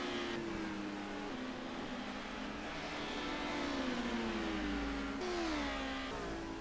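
Touring race cars scream around the Jarama circuit in Spain during a race, engines whining steadily with rising and falling pitch as gears change, continuous and fairly loud with no voices.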